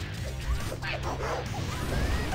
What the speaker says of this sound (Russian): Ничего себе, тут уже собаки прибавились.